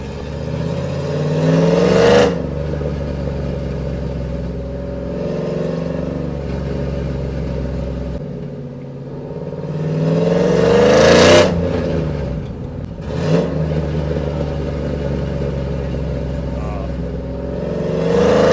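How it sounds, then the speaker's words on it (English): A cammed Chevrolet Silverado 5.3L pickup with Flashark longtube headers revs hard three times, each loud rise in pitch falling back to a deep, choppy lumpy idle, recorded close with no talking. "let's go ahead and see if we can get some pops and bangs for you"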